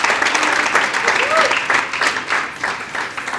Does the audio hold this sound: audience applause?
yes